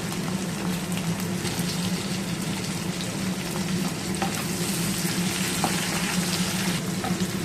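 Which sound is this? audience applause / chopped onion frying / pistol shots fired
chopped onion frying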